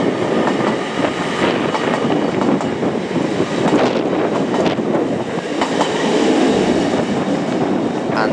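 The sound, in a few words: train from Edinburgh to London King's Cross passing at York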